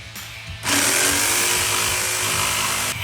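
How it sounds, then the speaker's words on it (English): A Ryobi jigsaw starts up and cuts steadily through a dust box panel, a loud buzzing saw that runs continuously for over two seconds after a quieter start, with no talking. "for that we're using our trusty jigsaw, which has 6 years warranty"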